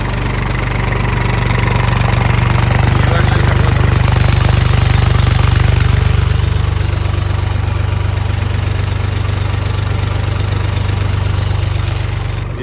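Mahindra Yuvo Tech Plus tractor engine runs with no one in the seat, a loud, close, steady diesel chug with a constant low throb throughout.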